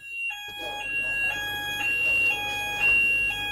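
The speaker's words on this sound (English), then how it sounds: "I set off the fire alarm" A kitchen fire alarm set off by cooking sounds as a loud, shrill electronic beeping in a steady repeating pattern of high tones that runs throughout, with no talking.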